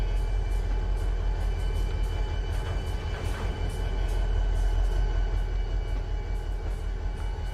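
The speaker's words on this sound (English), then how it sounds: "So we need to push this train all the way back so the cattle cars are in." A freight train rolls along in the Trainz 12 railway simulator game, a steady loud engine drone with rhythmic wheel clicks and tonal hum throughout.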